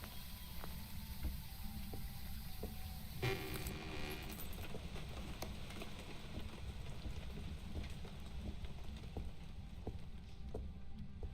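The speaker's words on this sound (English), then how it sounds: "Has it been raining every single time" Rain patters steadily on surfaces nearby, with scattered drips and taps over a constant low rumble.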